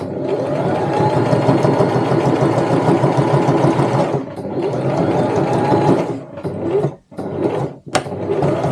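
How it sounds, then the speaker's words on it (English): A sewing machine stitches a tote bag in a steady rapid mechanical whir, then stops and restarts in short bursts with brief pauses and clicks. "Needles down, lift your presser foot, and just sew back up to where you started"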